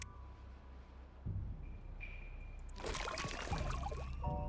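A water seep in the video game Timberborn flows with a soft, steady trickling rush that stays faint and continuous, then grows a little fuller with brief clicks over it.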